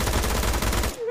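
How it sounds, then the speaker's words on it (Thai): Rapid automatic gunfire from PUBG Mobile, a dense burst of loud shots packed close together that cuts off abruptly near the end. "ใครยิงวะ"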